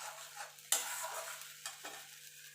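A paste of tomato, cashew, melon seed and poppy seed is sautéed and stirred in a pan: a quiet hiss punctuated by a few sharp scraping strokes, close and faint.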